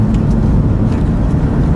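A car passes on a rural road at night, giving a close, loud low rumble of engine and tires that holds steady over the short span.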